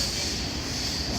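A passenger train travelling through the Konkan region toward Ratnagiri, a continuous loud rumble and rushing hiss heard from inside the carriage.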